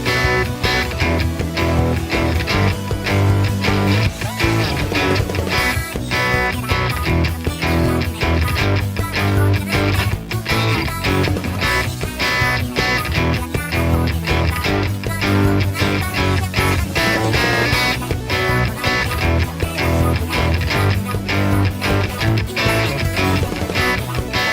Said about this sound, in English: The guitars are playing mostly super basic power chords.